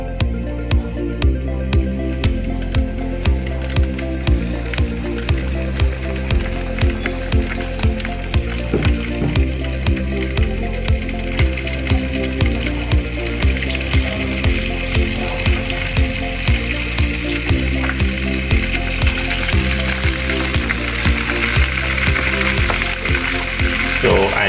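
Flour-coated oyster mushrooms deep fry in hot oil, giving a loud, continuous close-up sizzle with steady bubbling and rhythmic popping throughout.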